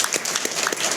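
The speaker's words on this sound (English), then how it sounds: "I think that's probably worth a round of applause." Live show audience at Tulips claps in a brief burst of fairly close, dense applause, the individual hand claps crisp and rapid.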